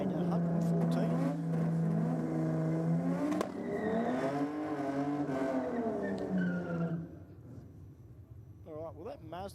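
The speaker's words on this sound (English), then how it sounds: "that Mazda doesn't sound like it's got a rotor in it, but it's got something tough underneath that bonnet" A turbocharged Mazda drag car accelerating down the strip at Sydney Dragway, its engine note climbing through rising pitch sweeps with a gear change midway. A commentator talks over it throughout.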